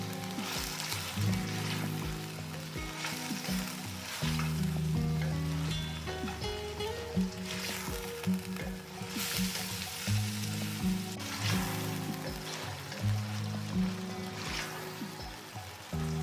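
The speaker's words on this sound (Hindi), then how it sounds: "साथ ही इसमें 2 कटे हुए टमाटर शामिल कर दें और टमाटरों का पानी खुश्क होने तक पकाएं।" Two chopped tomatoes fry in a pot for white beef pulao, a steady soft sizzle with bubbling and occasional spoon scrapes and clinks, quiet and close with no talk.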